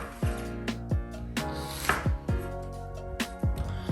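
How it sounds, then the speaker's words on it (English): A knife slices through an onion on a cutting board, producing a series of sharp thuds and crisp cuts at an irregular rhythm, close and fairly loud, with no talking. "you just want to slice your onion in half."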